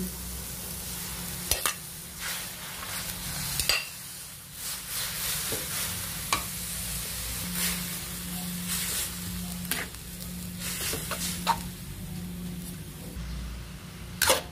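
Bihon rice noodles being stir-fried in a pan, with a steady sizzle and repeated scraping and clacking of a utensil against the pan throughout, close and fairly loud, no talking.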